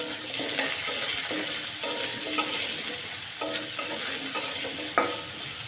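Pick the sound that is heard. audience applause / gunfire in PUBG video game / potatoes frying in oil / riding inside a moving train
potatoes frying in oil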